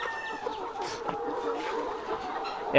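Layer hens cluck continuously inside an egg-laying shed on a poultry farm in Dimla, Nilphamari, many birds overlapping in a busy, moderately near chorus with no talking.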